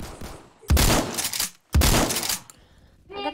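Gunfire from a weak gun in the Roblox video game, two loud sustained bursts of rapid shots separated by a brief pause, followed by a faint electronic chime.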